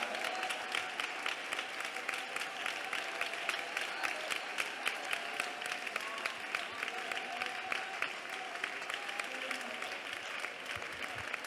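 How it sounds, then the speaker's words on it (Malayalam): A congregation at an IPC Pentecostal prayer centre service claps hands in praise, a dense, steady applause that goes on for several seconds, with faint voices underneath. "കൈയടിച്ച് സ്തോത്രം പറ"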